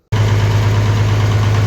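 International Harvester 806 tractor engine idling steadily after being put back in service, a loud, close, continuous low rumble that starts abruptly and holds an even throb, with no talk.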